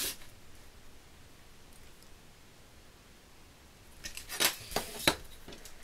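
Card stock being cut to size for a memory game box, heard as a few quick, close snipping and scraping cuts near the end after a stretch of near silence.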